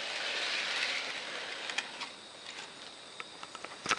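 A model train locomotive pulls a string of freight cars around a layout, giving a faint, soft rolling hiss broken by light clicks and rattles from the wheels and couplings.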